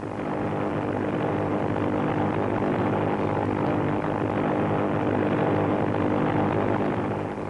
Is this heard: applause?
no